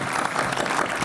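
Live audience in Boston applauding at a conference talk show, a steady dense wash of many hands clapping throughout the short burst.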